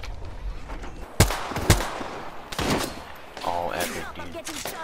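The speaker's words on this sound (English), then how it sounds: "Shots fired. And they're hitting me." Gunfire in an Apex Legends match: two sharp, loud shots close together, then a further burst of firing and crackling impacts, with gaps of ambient game noise between.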